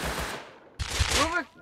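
Gunfire in the survival game Rust Console Edition, a few sharp shots in two bursts with voices talking over the second.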